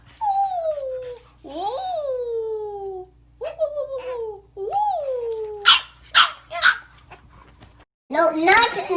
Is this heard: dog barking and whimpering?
yes